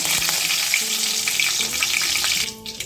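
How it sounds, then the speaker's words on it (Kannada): Mustard seeds and curry leaves frying in coconut oil in a pan on a gas stove, a loud dense sizzle with light stirring that drops away near the end; no one talks. "ಸ್ವಲ್ಪ ಸಾಸಿವೆ ಹಾಕೊಳ್ಳೋಣ ಕರ್ಬೇವು ಸೊಪ್ಪು ಹಾಕೊಳ್ಳೋಣ"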